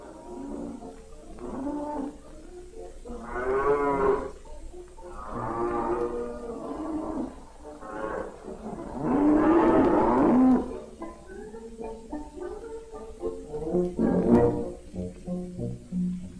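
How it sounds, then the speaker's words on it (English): Dairy cows walking to the barn for milking moo repeatedly in long, loud, drawn-out calls over a low steady background hum, with several overlapping voices close by. "all by themselves they start walking toward the barn. The cows know when it's time to be milked"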